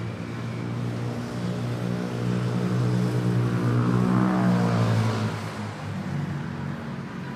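A passenger jet making a go-around at Manila airport, a steady loud engine roar with droning tonal hum that swells in the middle and eases slightly toward the end.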